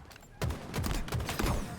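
Sniper fire in a Halo Infinite Forge firefight aboard a Star Destroyer map: a sharp broadband crack followed by a rapid run of loud, close shots and impacts packed into under two seconds.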